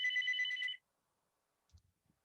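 A short, bright electronic phone ring sounds once during a mathematics staff meeting, close and clear, then stops, leaving near silence with a faint thump.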